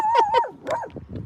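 A dog barks and whimpers at a lake in the morning, giving two quick high yips and then a longer whining bark, close and fairly loud, with a little background noise.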